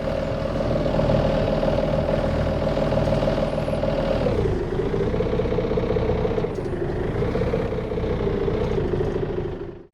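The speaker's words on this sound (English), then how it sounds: "I assume that is an engine, but maybe it's not." A boat engine in the VR Regatta sailing game, a loud, steady droning hum that dips in pitch twice before cutting off abruptly at the end.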